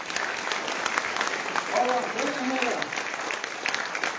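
An audience claps steadily at a co-governance public meeting in Christchurch, a continuous wash of applause with a voice speaking briefly over it.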